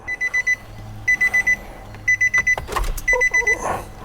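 An EC OffRoad aftermarket screen in a Y62 Nissan Patrol sounds a high electronic alarm on its first start, repeating in groups of four quick beeps; a voice and cabin rustling come in near the end.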